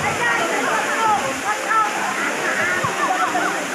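Mayahay Falls, a waterfall, giving a steady, loud rush of falling water that runs under a person speaking close by.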